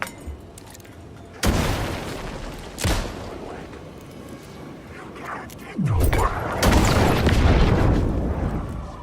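Flashbangs go off in Alan Wake 2, producing several loud booming bursts with crackling, glassy tails at irregular intervals, while someone speaks over the noise.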